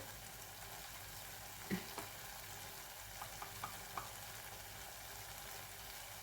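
Ground spice paste (vatan) frying in a pan for an eggplant dish, a faint low sizzle with a few soft stirring taps, no talking.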